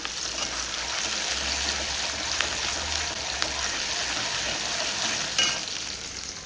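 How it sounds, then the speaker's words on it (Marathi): Onion and tomato frying in a pan make a loud, close, continuous sizzle with faint stirring scrapes, and no one talks over it. "कांदा टोमॅटो चांगला मी भाजून घेते"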